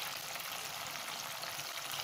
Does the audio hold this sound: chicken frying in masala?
yes